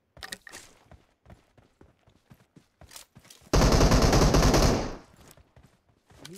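Upgraded gun fired in a video game: a few sparse single shots and clicks, then one dense sustained burst of automatic fire lasting about a second and a half, loud and close, followed by quieter scattered clicks.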